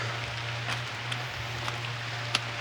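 Steady rain falls outdoors during dwarf coconut planting, a soft continuous patter with a few brief louder drops, alongside a low steady hum.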